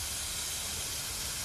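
A continuous, loud, broadband hiss of steam escaping from a steam engine, steady and close throughout with no breaks.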